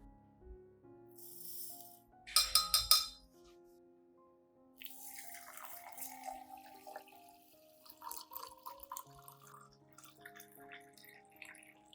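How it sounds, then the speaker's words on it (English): Water is poured into a glass cup holding about three tablespoons of rice, 500 milliliters at room temperature: a short splashy burst, then a longer, steady pour with bubbling and trickling, close by and with no talking. "Then pour in 500 milliliters of clean room temperature water."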